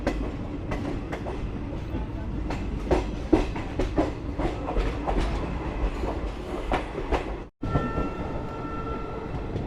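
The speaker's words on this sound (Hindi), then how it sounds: "हमारी ट्रेन जो जा रही है वो बरौनी किऊल मेन लाइन है" The Ballia Sealdah Express passenger train, running on the Barauni–Kiul main line, rumbles steadily on the rails with rhythmic clickety-clack wheel beats throughout, heard from on board, with a brief sharp dropout near the end.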